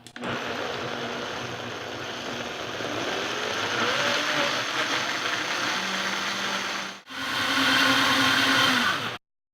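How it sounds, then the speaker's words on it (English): A kitchen blender whirs loudly and steadily as it mixes muffin batter, cutting out briefly near the end before starting up again for a final burst. "So we blended our muffin mix up, and it is a beautiful batter at this time with no flavoring"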